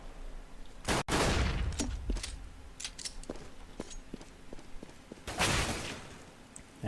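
Rifle fire in Counter-Strike: Global Offensive during a pro match on a competitive map, a few sharp close bursts with scattered single shots and clicks between, the loudest volleys at the start and again near the end.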